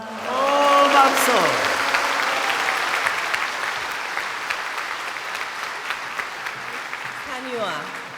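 Audience applause at a church dedication ceremony, a dense burst of clapping that starts loud and slowly fades over several seconds, with a voice briefly heard at the start and near the end.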